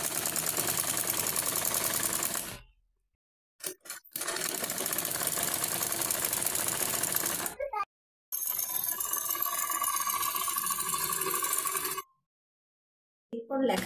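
A sewing machine stitches a one-inch folded edge on a rice sack, running in long steady mechanical bursts with short pauses between runs, loud and close with no talk.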